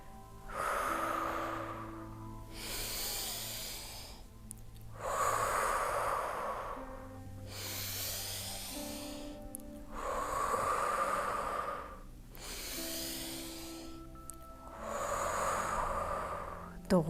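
Slow, deep breathing during a stretching exercise for relieving menstrual pain: about four full cycles of long airy inhales and exhales, close to the ear, each breath lasting a couple of seconds.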